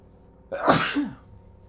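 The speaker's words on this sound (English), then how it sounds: "I gotta sneeze, sorry." A single sharp sneeze, close to the listener, with a quick breathy onset and a short tail.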